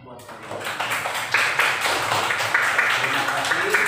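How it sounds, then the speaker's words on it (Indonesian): A class of students claps in applause for several seconds, a steady patter of many hands that builds after a moment and carries on evenly, with some voices mixed in. "Tepuk tangan buat kalian"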